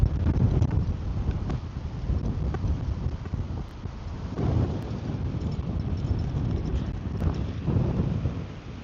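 Steady wind buffets an outdoor microphone beside a fishing pond, a continuous low rumbling roar with gusty swells lasting throughout, no voices.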